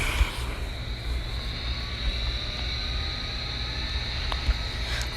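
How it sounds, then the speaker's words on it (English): Jet engines of an American Airlines Boeing 777-200 on takeoff at Key West airport give a steady, even roar throughout, with a faint high whine above it. "Love the sound of those engines."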